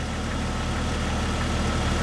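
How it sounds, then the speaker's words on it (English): Steady, loud engine idle from a 1997-or-later Jeep Cherokee XJ running at about 800 RPM, a continuous even rumble with no revving or talk. "we're actually sitting here idling about 800 RPM"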